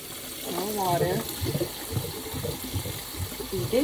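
Water runs steadily from a kitchen tap while pork roast is rinsed for tamales, a constant rushing wash with a person talking over it.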